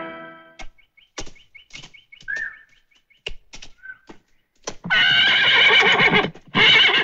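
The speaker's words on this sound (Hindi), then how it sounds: "आपका घोड़ा तैयार है।" A horse whinnies loudly and close in a Hindi action film scene, a long neigh followed by a shorter second one, preceded by scattered hoof knocks and faint bird chirps.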